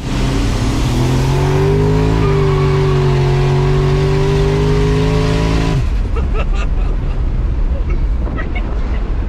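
Mercury Marauder sleeper fitted with a Holley accelerates hard in a race, its loud engine note climbing steadily through the gears for about six seconds before cutting off into road and wind noise.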